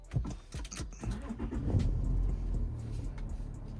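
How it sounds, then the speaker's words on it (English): A 3.0 TDI diesel car starts up: a few mechanical clicks and cranking pulses, then the engine catches and settles into a steady low idle, heard close and alone. "Let's just see if the car starts and freaks out at me or not."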